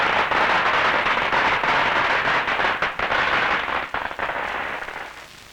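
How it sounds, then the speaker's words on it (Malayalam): Firecrackers bursting in a rapid, dense crackling barrage, loud and continuous before thinning out with scattered final pops near the end. "പൊട്ടട്ടെ പടക്കം പൊട്ടട്ടെ."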